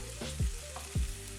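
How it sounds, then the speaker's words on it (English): Red onion sautes in vegetable oil with a steady sizzle, broken by two quick scraping stirs of the pan, close and fairly quiet with no talking. "I'm chopping up a red onion and letting it saute in a bit of vegetable oil"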